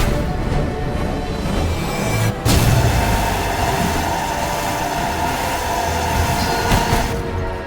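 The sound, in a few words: beam attack sound effect in Death's Door video game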